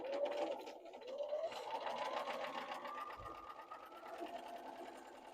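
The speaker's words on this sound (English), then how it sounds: "Sew together the jelly roll strips along the long edge with the right sides together" A sewing machine runs steadily, stitching jelly roll fabric strips along their long edge with a quarter-inch seam, a close, even mechanical whir with a faint rising hum.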